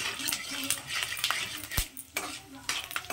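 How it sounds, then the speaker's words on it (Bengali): Peanuts fry in a pan while a metal spoon stirs them, giving repeated scraping and clinking strokes over a faint sizzle, close and fairly quiet, with one sharper knock partway through. "তো দেখুন কত সুন্দর ভাজা হচ্ছে বাদাম।"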